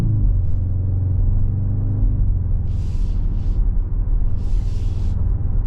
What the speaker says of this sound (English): we're heading down the road in this 25 GV70